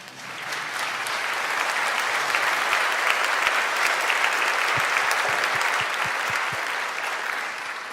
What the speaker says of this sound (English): And for good measures, another round of applause, please.